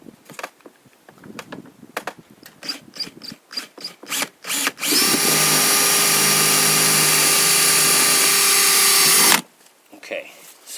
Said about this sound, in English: notice how I stopped right away when I drilled in